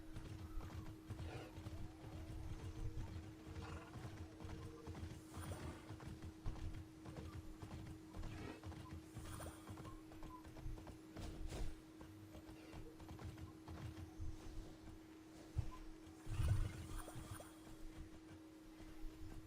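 A horse in the Immortals Fenyx Rising game moves along with steady rhythmic hoofbeats over a constant background hum, with a short whinny partway through, all fairly quiet.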